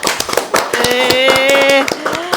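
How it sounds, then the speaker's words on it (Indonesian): Close, crisp claps ring out to welcome teacher Pak Nasril as a Q&A guest, mixed with voices cheering or calling out in drawn, tonal tones through the middle of the burst. "Beri tepuk tangan dulu dong"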